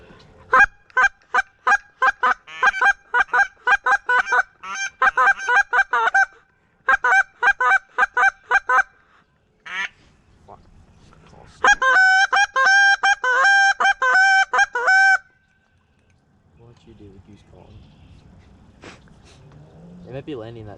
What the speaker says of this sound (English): Oh, those are those are geese.